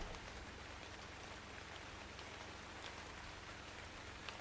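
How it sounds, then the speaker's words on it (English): Steady rain falls in the Ark Ragnarok video game, a faint, even hiss of drops that holds without a break and carries no voices. "Too bad it's raining."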